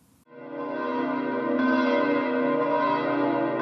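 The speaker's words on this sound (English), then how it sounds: "At noon, bells rang out across the world in Catholic churches" A Catholic church bell ringing out at noon, a single resonant strike swelling quickly and sustaining with a bright, shimmering hum of overtones.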